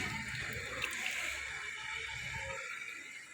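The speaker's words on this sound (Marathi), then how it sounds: "आणि तोटीला पाणी म्हणलं तर नेहमीच असते बघा शाळेतल्या तोटीला." Water runs steadily from a school tap, a continuous close splashing hiss that stays even throughout before easing slightly at the end.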